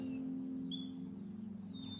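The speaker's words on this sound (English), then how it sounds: "Or like the birds that are chirping." Birds chirp faintly in the background, a few thin, high tweets scattered over a steady low hum, with no voices.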